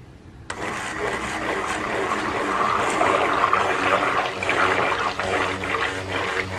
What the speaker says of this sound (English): And the hand blender really does increase your depth of colour as well.